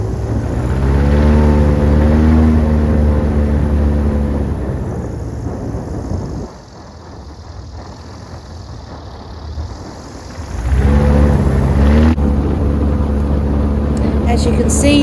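An airboat runs on Lake Okeechobee with a loud, steady engine-and-propeller roar that dips partway through and then surges back, close and dominant with wind in the background.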